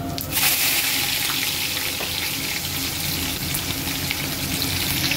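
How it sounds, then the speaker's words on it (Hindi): Whole garam masala spices, including cumin seeds and cloves, fry in a pot with a loud, continuous close sizzle and occasional stirring scrapes. "और अब इसे हम अच्छे से भूनेंगे साइड बाय साइड।"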